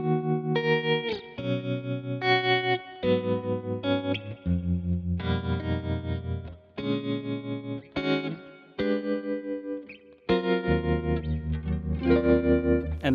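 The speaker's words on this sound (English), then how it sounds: "This is a tremolo with the Fender and a spring reverb." Sustained electric guitar chords through a Fender amp model on a Fractal Audio FM3 pulse with a wavering tremolo, each one ringing out into a splashy spring reverb tail before the next chord.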